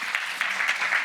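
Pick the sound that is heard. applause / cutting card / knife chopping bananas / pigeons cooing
applause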